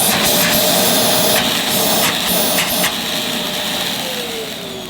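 Dyson DC26 City vacuum cleaner running with reduced, choked suction: a loud steady high-pitched motor whine close by, with a few brief airflow surges early on and a slight pitch drop toward the end.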